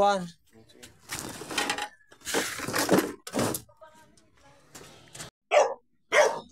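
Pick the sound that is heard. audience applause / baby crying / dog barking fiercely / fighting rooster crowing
dog barking fiercely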